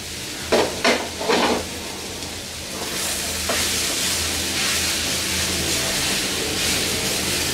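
Mixed leafy greens cooked with mango sizzle steadily in a pan, a few spoon scrapes and stirs near the start giving way to a continuous loud hiss of frying and steam.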